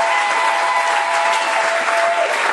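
A church congregation applauding, a loud, dense, sustained wash of clapping from many hands at once, with no break.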